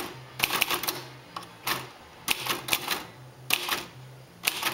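Keys clack on a Royal Quiet Deluxe manual typewriter in sharp, close bursts, irregular strokes grouped in quick clusters with short pauses between them.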